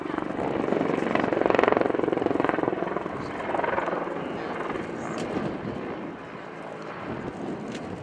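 An attack helicopter, a Mortis with stub wings and weapons pylons, roars steadily at an airshow as it pulls up for a wing over, its rotor and engine noise loud and continuous, fading slightly toward the end amid wind buffeting.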